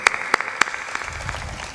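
A few sharp, separate claps at a religious gathering as a devotee is honored with a badge, three loud hits early that then thin into scattered softer taps and low murmur.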